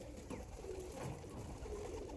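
Faint, continuous cooing from Andhra Abluk pilanka, star kalanka and lalsira pigeons, low and muffled beneath a steady wash of background noise.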